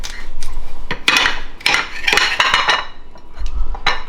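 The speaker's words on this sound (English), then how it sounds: "I don't have a cutting board, but I'll show you how I cut it" Knife strokes cut food directly on a hard surface with no cutting board, giving a series of sharp clinks and scrapes in an irregular rhythm, close and fairly loud with no talk.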